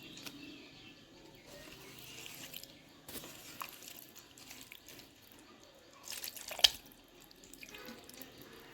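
Hands being rinsed under running tap water in a home kitchen while cooking cucumber: a soft, low, steady trickle and splash with a few drips, fairly faint and close, and a brief louder splash near the end.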